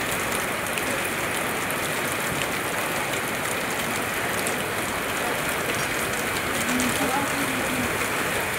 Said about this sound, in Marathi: मुसळधार पाऊस सुरू झालाय बघा